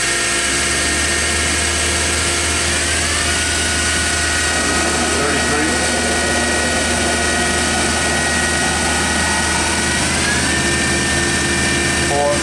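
A Mazak VCN 410A-II vertical machining center runs its spindle with the air purge on, giving a loud, continuous mechanical whine over a steady hiss and low hum, with tones shifting as the speed changes.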